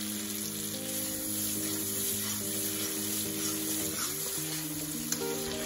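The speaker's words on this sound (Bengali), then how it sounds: "এবার এর মধ্যে স্বাদ মতো নুন আর পরিমাণ মতন হলুদ দিয়ে মশলাটা ভালো করে কষিয়ে নেব।" Ground spice paste with salt and turmeric frying in mustard oil, a steady dense sizzle over a sustained hum and tonal background, constant and close, with no speech.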